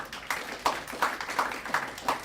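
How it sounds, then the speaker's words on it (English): An audience at a Catholic talk gives a final round of applause, heard as faint, steady, evenly spaced claps with no speech. "One last round of applause."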